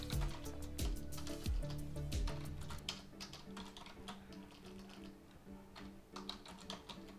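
Rapid keyboard typing, clattering keystrokes in quick irregular bursts, close by, over some low background noise.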